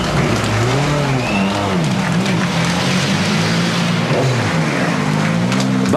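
Gronholm's Ford World Rally Car arrives back at service at Rally Finland, its engine loud and close, revving and shifting steadily for several seconds with no talk over it.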